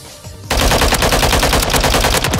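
Loud, rapid automatic gunfire in Modern Warfare 3 breaks in after a brief quieter moment, a continuous close-up stream of shots that runs to the end without talk.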